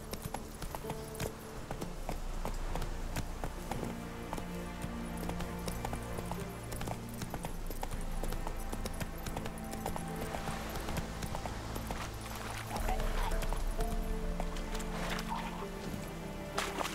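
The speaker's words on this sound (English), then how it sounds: "Run, Roach" A horse gallops in a video game, a continuous drumming run of hoofbeats that stays loud and steady for the whole stretch, with a soft game ambience behind and no talk.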